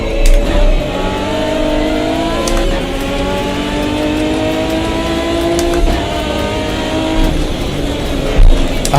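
Simulated 2005 GT1 race car engines howl continuously at Bathurst in Automobilista 2, a loud steady drone with rising and falling revs as gears change, other cars close by.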